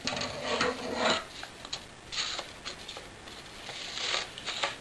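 Scissors cutting through paper while trimming a paper airplane, the OmniWing, with close, raspy snipping and rustling strokes in irregular bursts.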